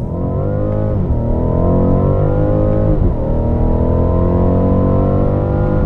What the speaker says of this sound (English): The second you touch the throttle, you get pushed back into your seat, and the acceleration is relentless and quite violent sometimes.